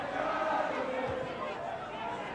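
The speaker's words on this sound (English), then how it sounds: "The Swansea crowd really making their presence felt here as Edvaldsen takes this throw. Really making a good noise." Swansea football crowd at a 1982 World Cup qualifier between Wales and Iceland, a steady, distant roar of massed voices and chanting under faint commentary.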